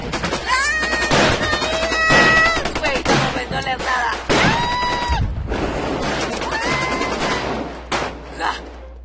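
Gunfire in a zombie shooting video game: loud bursts of rapid automatic shots and single cracks in quick clusters, mixed with whining electronic game effects, continuing for several seconds before tapering off.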